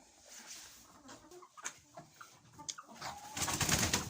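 A rooster calls out in a farmyard coop among clucking hens on a frosty day, the bright crow rising loud near the end over scattered softer poultry sounds close by.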